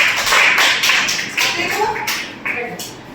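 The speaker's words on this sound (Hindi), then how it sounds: "ताली बजाओ सब" Hands clap in a scattered, uneven run of light, sharp slaps, fairly close, while a voice talks over them the whole time.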